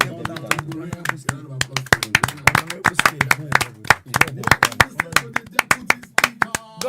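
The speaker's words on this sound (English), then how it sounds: "Everybody, please, a round of applause." At a formal ceremony, a small audience claps in sharp, uneven bursts that continue steadily for several seconds, with a voice speaking faintly beneath.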